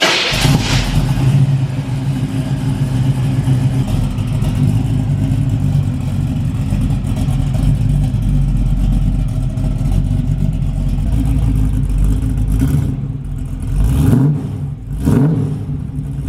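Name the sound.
big block V8 engine running with mufflers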